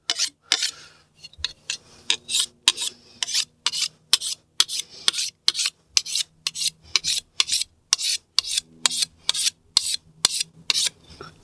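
A fine file rasps along the edge of a sickle blade in steady, evenly spaced strokes, about two dozen crisp scraping pulls close by, each separated by a short pause, with no talking.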